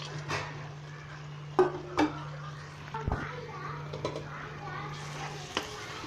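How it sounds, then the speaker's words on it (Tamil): Carrot halwa with almonds, cashews and raisins is stirred in a pan, with a few scattered metal clinks and scrapes of a spoon over a faint low hum. "ஒரு நிமிஷம் கிளறி விட்டுக்கோங்க."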